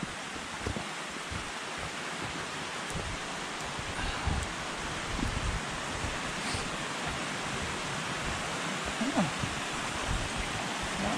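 A small stream flows at a step-over crossing on a hiking trail on Mount Tom, giving a steady, close rushing wash with some wind noise and a few faint bumps.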